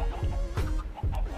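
A crowd of Minecraft chickens in a large flock cluck in quick, repeated bursts, several overlapping calls close and clear, with no talk over them.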